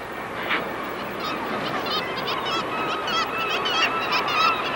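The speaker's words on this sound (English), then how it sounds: "Lots of birds too." Geese honk repeatedly near a waterside spot in Alaska, overlapping calls rising and falling over a steady background rumble, with other birds mixed in.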